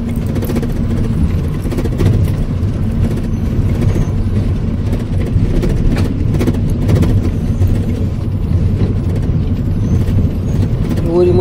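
Steady engine rumble and rattling from a vehicle crawling slowly over a rough, damaged ghat road, a continuous low drone with bumps and clatter throughout and no talking.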